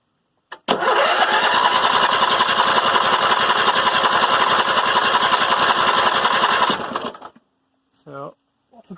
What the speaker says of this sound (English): The compression test is connected up, so let's crank it over and see what values we get